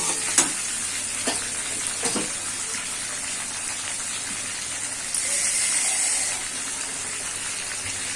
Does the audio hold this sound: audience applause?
no